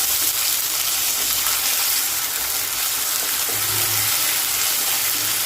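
Ginger garlic paste frying with browned onions in a hot pan, a loud continuous sizzle with crackling that stays steady throughout, no voices.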